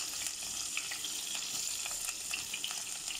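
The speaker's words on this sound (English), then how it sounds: "Into this I'm going to drop in my bay leaf, my elychee pod, my thyme, and my onion and let this dry up." Bay leaf, cardamom pod, thyme and onion frying in ghee for chicken biryani, giving a soft, steady sizzle with light crackles, fairly quiet and close.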